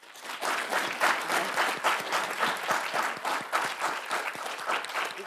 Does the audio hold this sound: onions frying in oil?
no